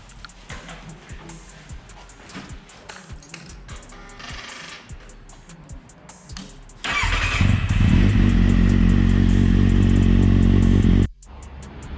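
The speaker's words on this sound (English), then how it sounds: "this is the new exhaust on the bike, and let's see how it sounds." Kawasaki Z750 motorcycle fitted with a new Black Widow exhaust, heard as a loud, steady engine drone for about four seconds after quieter background clatter, then cutting off abruptly.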